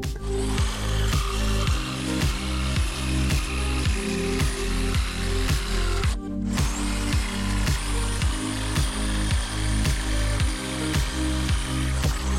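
A power saw cuts out a marked wooden piece for a French cleat saw blade holder. The steady, loud buzz rises and falls in rhythm with each stroke, with one short break midway.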